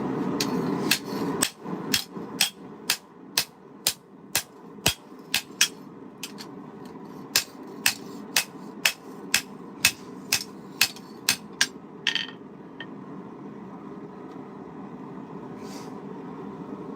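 Sharp, ringing hammer blows forge a chef's knife, roughly two dozen evenly spaced strikes at about one per second over a low background hum, pausing briefly midway and trailing off near the end.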